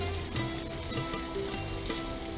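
Prawns fry in a pan for vermicelli prawns, a close, steady sizzle broken by stirring and turning scrapes in short irregular bursts, with no one speaking.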